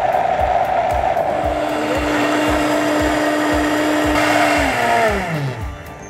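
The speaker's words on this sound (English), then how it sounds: "our 3-ingredient pie filling is in the blender. All we have to do is blend." Countertop blender whirring steadily through a chocolate silken tofu pie filling, a loud continuous motor drone with its pitch dropping as it spins down near the end.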